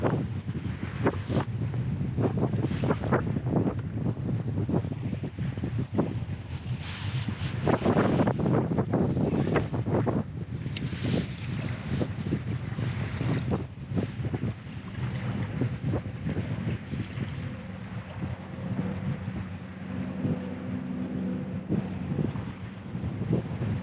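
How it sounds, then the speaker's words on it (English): Strong gusty wind on a lake buffets a fishing kayak, loud roaring wind noise pounding the microphone throughout with water lapping underneath, no talking. "This wind is nuts."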